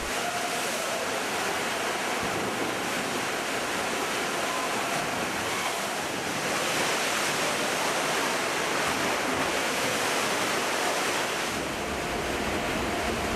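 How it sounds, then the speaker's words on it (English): Rough afternoon sea around a rocking cruise ship en route to the Falkland Islands, a continuous roaring wash of waves and wind, loud and steady with slow surges and no voices. "In the course of the afternoon, the sea is getting rougher and our ship already rocks considerably."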